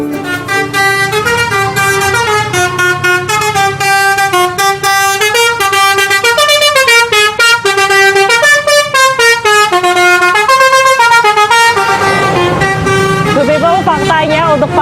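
Loud telolet bus horn blasting a bright, fast multi-tone melody, note after note, continuing for several seconds right up close at a bus terminal in Lamongan, Indonesia.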